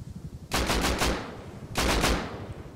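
Two bursts of rapid automatic gunfire in the survival video game Rust, each lasting about a second, loud and close with a short gap between them.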